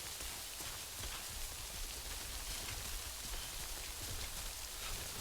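Rain falls steadily in the video game Death Stranding, a faint, even hiss of drops on the ground with no voices over it.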